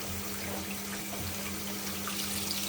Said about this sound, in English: So this is the flow of cold water to keep the reaction